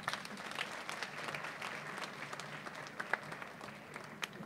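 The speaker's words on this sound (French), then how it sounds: "Merci de l'applaudir, s'il vous plaît." An audience at a film festival opening claps in steady, moderately quiet applause that carries on throughout, with a few sharper individual claps rising above the rest.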